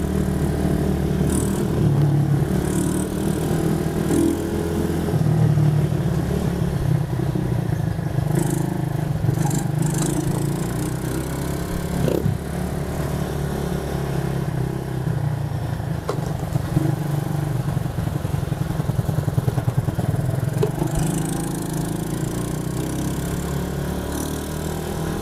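ATV engine revving continuously at high load during a top-speed run, a steady loud motor drone with rough clattering texture and no talk, lasting the whole stretch.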